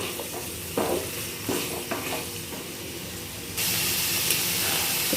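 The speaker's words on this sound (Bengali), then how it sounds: "এটাও এখন ভালো করে মশলার সঙ্গে একটু কষিয়ে নিই" Paneer and soya chunks fry with spices in a pan for rice pulao, a steady close sizzle with intermittent scraping stirs, the frying hiss growing louder and denser toward the end.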